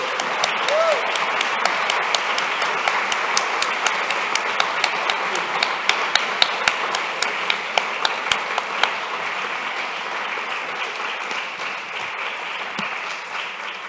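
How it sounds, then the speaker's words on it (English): Conference audience applauding during a welcoming ceremony for a forced migration studies network, a long even wash of many hands clapping with some sharper individual claps standing out, sustained throughout without stopping. "I want us to as well give a round of applause to someone that has been behind this"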